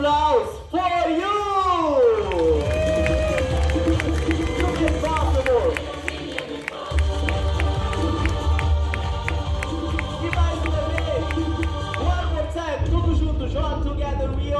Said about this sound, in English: And now, a special applause for you.